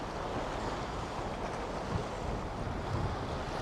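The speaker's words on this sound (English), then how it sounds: "It's very choppy." Choppy river water slapping under strong wind by a riverside walk, a steady broadband wash of waves and wind noise throughout, fairly loud and close with gusty bumps and no talking.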